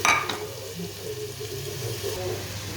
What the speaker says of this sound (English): So now what we're going to do is to pick up these beautiful onions and scoop them in